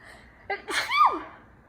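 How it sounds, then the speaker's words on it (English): A single close sneeze with a sharp intake gasp just before, then a loud explosive burst that trails off quickly. "I'm going to sneeze."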